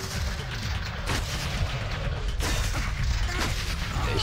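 Gunshots in the video game Sanctum crack out repeatedly at irregular intervals over a dense, rumbling game soundscape, with sharp reports standing out near and loud.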